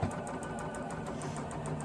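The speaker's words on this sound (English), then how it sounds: "when we quilt, I'm sewing with a 1/4 inch seam" Sewing machine stitching quilt pieces with a quarter-inch seam, a close, steady rapid rattle of the needle running evenly throughout.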